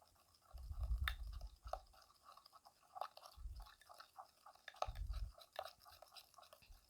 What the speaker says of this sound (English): Mix the ingredients like so.